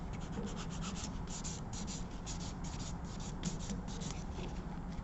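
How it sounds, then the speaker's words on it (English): Continuous rubbing and scraping of a buffer across an acrylic nail, worked in one direction at a time during a monomer and polymer nail enhancement practical; steady, close, rhythmic strokes with no talking. "when you buff the same way you file. Up one side, across the top, down the side, down the front."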